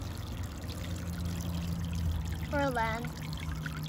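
Water poured onto dirt in a model landscape until it floods, a steady trickling pour that swells toward the end, heard under ongoing talk.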